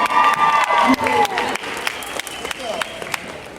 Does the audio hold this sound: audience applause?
yes